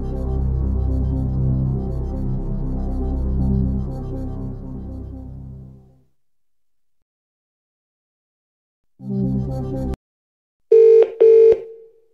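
Phone a Friend dialing in a Millionaire quiz video game: after a humming music bed fades to silence, a short low burst is followed by a few sharp high electronic dial tones in quick succession.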